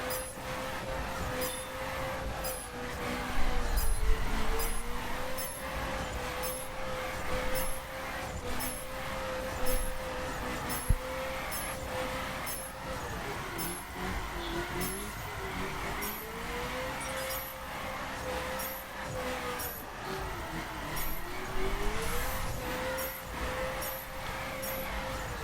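Mazda Miata racing on a track in The Crew: a steady engine tone that rises and dips through shifts and corners, with faint speech and regular ticking clicks over the top.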